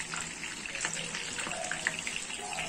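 Tandoori-spiced chicken drumsticks frying in a pan give a faint, continuous sizzle with scattered small pops and spits, with no talking.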